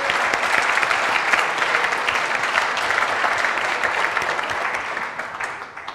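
An audience at a business venture plan competition finals gives a steady, full round of applause, dense and even throughout, then thinning and fading in the last second.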